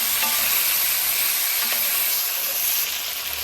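Black cardamom and a stick of cinnamon fry in hot oil, giving a loud, steady close sizzle with a few faint clinks of stirring.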